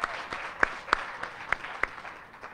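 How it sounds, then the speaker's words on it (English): Applause for Head Start volunteers at a guide and service dog graduation ceremony, a crowd clapping steadily at moderate distance, with a few sharper claps standing out. "let's give a big round of applause to all of our Head Start volunteers"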